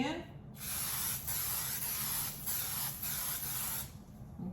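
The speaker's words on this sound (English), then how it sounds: "I'm gonna go ahead and spray the pan." Cooking spray hissing onto a pan in a home kitchen while making sweet potato pancakes, several close continuous bursts with brief gaps, then stopping.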